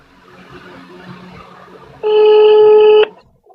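A phone call rings out unanswered. One sustained electronic ring tone lasts about a second and follows a stretch of faint background murmur.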